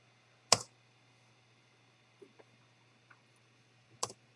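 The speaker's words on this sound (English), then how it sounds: "hit any key on the keyboard" Computer keyboard key presses while an Arduino logging program runs: two sharp isolated clicks a few seconds apart, with a few fainter ticks between, over a quiet steady hum.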